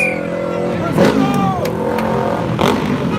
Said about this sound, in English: This motorcycle I'm filming that's making the noise.